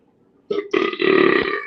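A loud, close burp rises out of near silence, starting in two short bursts before swelling into one long, throaty belch.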